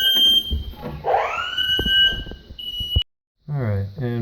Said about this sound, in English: So when you push the test button, it should set off the home alarm system as well.